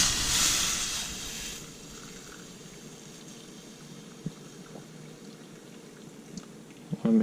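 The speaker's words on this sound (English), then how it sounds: "carefully take this over to our sink and pour the liquid into the jar." Liquid poured from a container into a jar held over a kitchen sink, with a louder gush at the start that settles into a thin, steady trickle and a few small splashes and clinks toward the end.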